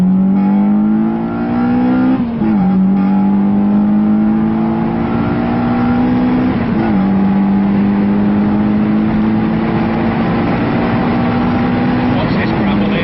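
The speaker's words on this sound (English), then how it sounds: "you've got the VTEC kicking in while the turbo's spewing." Turbocharged Honda Civic EP3 Type R engine with VTEC, heard from inside as it pulls hard through the revs, rising in pitch with two brief gear-change dips, loud and continuous throughout.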